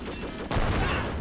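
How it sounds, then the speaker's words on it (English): An airburst grenade going off in the war video game Men of War: Assault Squad 2, a single sudden boom breaking through a dense battle din, followed by lingering rumble. "Let's see if we can have an airburst grenade go off."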